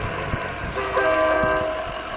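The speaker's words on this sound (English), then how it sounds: "That's the horn on this thing. Sounds just like a train." A truck's horn in the snowy off-road driving game Snow Runner, set in Wisconsin, blares a loud sustained train-like chord that swells and holds near the middle of the clip, with faint engine rumble beneath.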